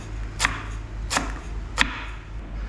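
Three sharp knife strokes chop lemongrass on a cutting board for jungle curry in Hua Hin, Thailand, evenly spaced, close and distinct over a quiet background with no talking.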